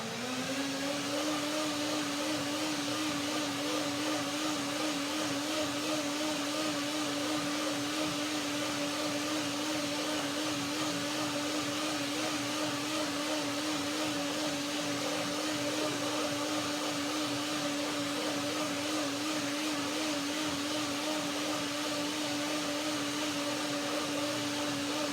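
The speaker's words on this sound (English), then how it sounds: "And now I can blend a second time to get it really creamy" A blender whirs at a constant high pitch for the whole stretch, blending sesame dressing, a loud, unbroken motor drone with no voices.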